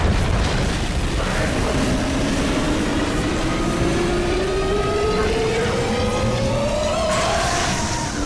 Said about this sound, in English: The sound for the reactors getting destroyed is so good.